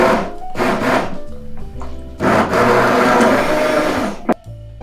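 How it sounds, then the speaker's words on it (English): An immersion blender purees dates for a sticky toffee pudding batter, its loud motor whirring in bursts with short pauses between pulses and a final brief clunk near the end. "I'm gonna grab my immersion blender, and we're just gonna pulse it up until it's a nice mixy mix."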